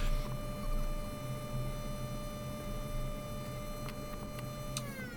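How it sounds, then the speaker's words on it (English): A bench grinder spins steadily in a workshop during an RV-14 aircraft flap build, giving a constant whirring hum with a faint metallic tick now and then and no talking over it. "I don't know why I turned the grinder on."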